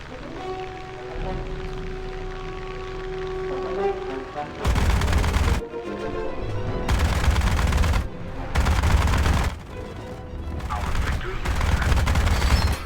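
Aircraft guns firing in a flight combat game at a P-51, long bursts of rapid automatic fire alternating with engine drone, loud and close.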